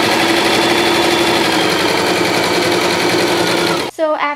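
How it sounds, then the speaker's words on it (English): A home sewing machine stitching fabric for a guinea pig cage liner, loud, steady, fast mechanical whirring and rattling close by that stops abruptly near the end, followed by a brief voice. "it's just time to turn on the machine"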